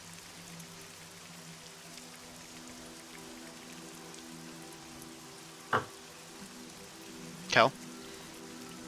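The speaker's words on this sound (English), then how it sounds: "It's still raining." Soft, steady rainfall hisses faintly and continuously in the background, broken by two brief sharp clicks near the end, while a voice briefly speaks once.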